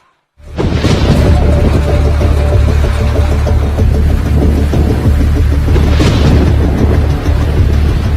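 Heavy monsoon rain pouring down in Surat, India, in a loud, steady roar that starts abruptly and continues without a break.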